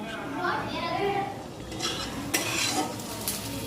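Onions turning red-brown fry in a pan for ghugni, a steady sizzle running underneath while a spoon stirs and scrapes in bursts, with a few clinks of utensil against the pan.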